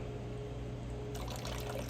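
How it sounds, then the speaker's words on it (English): Distilled water squirted from a squeeze bottle to rinse refined gold, a soft liquid spray and trickle that starts partway through over a steady low hum, faint and close. "I have some distilled water in my squirter. We'll go ahead and give that a rinse."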